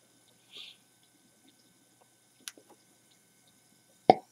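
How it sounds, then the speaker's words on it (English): Hydrogen peroxide decomposing on platinum discs, giving a few faint, scattered bubble pops and one sharper, louder pop near the end, heard close against an otherwise quiet background. "it makes a nice popping sound"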